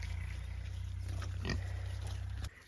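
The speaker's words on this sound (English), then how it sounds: "the Kune Kune is a grazing pig" A Kune Kune pig at an off-grid homestead gives a soft grunt under a steady low mechanical hum, with a faint click near the end.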